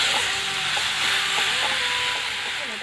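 Banana flower curry sizzles softly in a pan while a spoon stirs and scrapes at intervals, a quiet, close, continuous frying hiss with occasional tonal scrapes and no talking.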